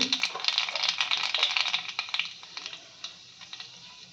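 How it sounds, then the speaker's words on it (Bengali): Sharp, dense crackling and popping of black cumin seeds hitting hot oil, loud at first and then thinning into scattered pops. "তেলটা গরম হয়ে গেছে, পুরোনো আমি একটু কালো জিরে দিয়ে দিচ্ছি"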